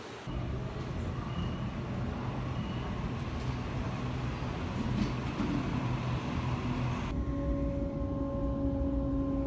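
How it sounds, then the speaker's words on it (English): Low rumbling train ride in Sydney, Australia, steady wheel and motor noise from inside a carriage, with a faint whine rising toward the end. "So let's get on the train and get booked in."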